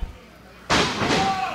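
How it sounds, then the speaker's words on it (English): A sudden heavy slam of a wrestler hitting the ring mat at a tag-team wrestling show, one loud impact followed by a second thud moments later, close and booming after a quiet lead-in. "Oh, double slams there by Matt Thompson."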